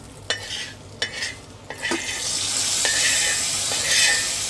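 Spiced eggplant frying in oil in a pan with turmeric and masala, a steady close sizzle with a few sharp taps and scrapes of a spoon stirring.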